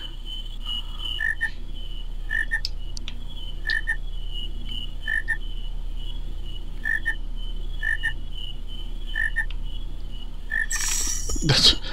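A frog croaks repeatedly in the Final Fantasy IX game, a steady series of evenly spaced short croaks over a constant ambient drone, with a brief louder noise at the very end.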